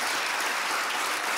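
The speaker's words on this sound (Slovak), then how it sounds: "no to chce veľký potlesk" Studio audience applause on a late-night talk show, a short, dense burst of clapping that stays loud and even.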